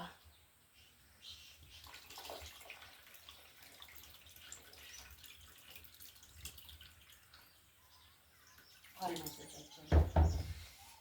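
Water splashes and trickles briefly near the end, a short pour into a container following quiet room noise and faint background voices.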